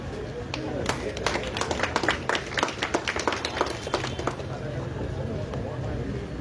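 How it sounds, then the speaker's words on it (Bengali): Audience clapping to welcome a guest at a Durga Puja community celebration in Joka, Kolkata, a burst of scattered hand claps over crowd murmur and background chatter. "আপনারা যারা সামনে আছেন এটা জোরে হাততালি হোক।"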